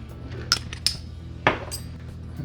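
Apple filling is mixed with cinnamon, nutmeg and allspice in a bowl, with a few sharp clinks of a utensil against the bowl and soft scraping between them, close and without talk.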